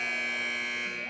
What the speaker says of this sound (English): Douglas County is going out on top as the buzzer sounds